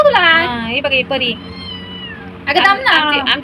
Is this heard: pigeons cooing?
no